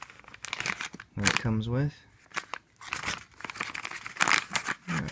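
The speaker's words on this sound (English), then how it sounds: "I just keep it inside of its little plastic bag" A small plastic bag holding an Emberlit stainless steel camping stove crinkles and rustles in short bursts close by, heard between and under a man's speech.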